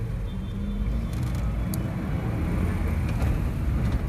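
Road traffic in Delhi heard from inside a car, a steady low rumble of engines and tyres that holds for a few seconds, with no voices.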